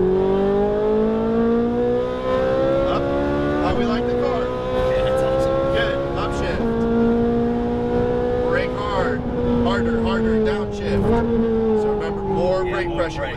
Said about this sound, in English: Add a little throttle, and then squeeze up to full throttle.